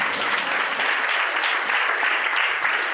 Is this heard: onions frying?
no